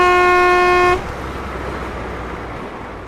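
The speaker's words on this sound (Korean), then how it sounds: "뒷차의 경적 소리에 화들짝 놀랐겠다." A car horn blares from the vehicle behind in one long, steady, loud honk lasting about a second, then cuts off abruptly, leaving low road and traffic ambience.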